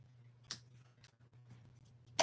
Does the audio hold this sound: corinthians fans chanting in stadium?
no